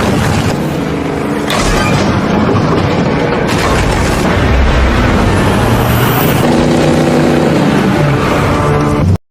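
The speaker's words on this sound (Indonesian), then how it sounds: "Pria itu membobol dinding kantor kepolisian menggunakan sebuah mobil." A car smashes through the wall of a police station in an action film, a loud, sustained roar of crashing, rumbling impact and engine noise lasting several seconds before cutting off abruptly.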